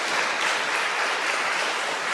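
A church congregation in Paris claps steadily to welcome a deacon, a dense, even wash of applause close by that fills the short moment without any voices.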